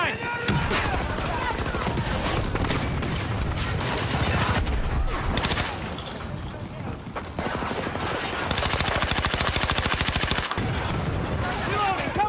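Silenced automatic shotgun in a video game, firing dense, rapid bursts that go on almost nonstop at high loudness with short gaps, under game action and occasional talk.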